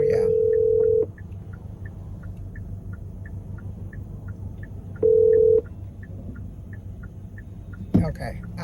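A steady ringback tone on a phone line, placed to have a gate opened: one tone of about a second, a pause, then a shorter second tone over low background hum, with a brief clatter at the end.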